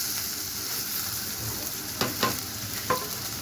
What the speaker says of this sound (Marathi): तेल गरम झालेलं आहे, यामध्ये आपण बारीक आणि उभे चिरलेले कांदे टाकूया।